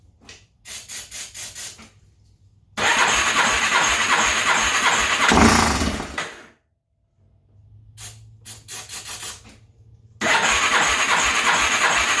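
A Warrior engine, just fitted with a new throttle cable, cranks in several bursts, catches loudly for a couple of seconds, then cuts out before more starter cranking and another roaring attempt, close by.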